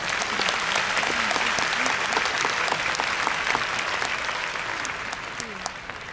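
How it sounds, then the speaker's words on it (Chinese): Warm, sustained applause from a large crowd in an indoor arena, honouring the leaders in the front row at a product launch event; dense clapping holds steady throughout and eases slightly toward the end. "我们真的需要给我们前排的领导人一个热烈的掌声"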